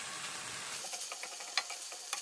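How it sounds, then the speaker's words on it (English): Ground beef browning in a pan with roasted diced green chilies and garlic, a light steady sizzle with scattered crackles and scraping stir sounds, quiet and close. "For my beef, it's all browning up nice."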